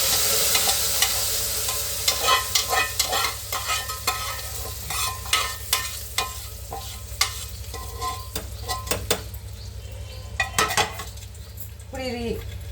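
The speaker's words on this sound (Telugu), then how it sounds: "ఆల్రెడీ పోపు ఇందులో వేసేస్తున్నాను పప్పులో." Tempering poured into cooked dal, giving a bright sizzle with a steady stream of spoon stirring and scraping against the pot, close and fairly loud, with small clinks of utensils near the end.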